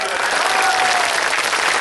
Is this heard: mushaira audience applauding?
yes